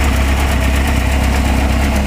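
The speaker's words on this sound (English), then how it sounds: "I usually let it run for a couple seconds, and then I rev it up for a little bit" A Suzuki GSX-R 600 motorcycle engine runs loud and close, holding a steady, even rumble with a fine vibrating texture throughout the short stretch and no voices over it.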